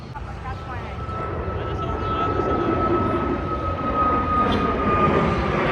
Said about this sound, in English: You can see the flight, we just took off, Indigo flight.